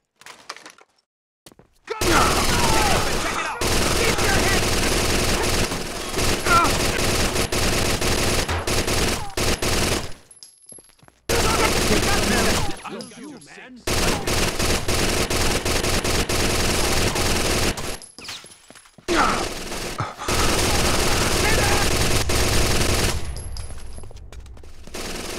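Bursts of automatic gunfire in the video game Rainbow Six Vegas 2, several loud sustained volleys separated by short pauses, with shouted squad commands mixed in.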